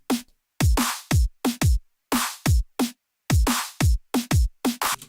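Programmed electronic drum pattern for a Friday Night Funkin' track: booming kicks, snare hits and a clap on every other snare, in a steady, punchy loop played alone with sharp gaps between hits.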